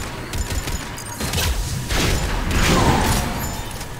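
Gunfire in Mass Effect 3 on the Citadel sounds like scattered shots and booming impacts mixed with mechanical clanks and whooshes, forming a busy, fairly loud game battle with no talk.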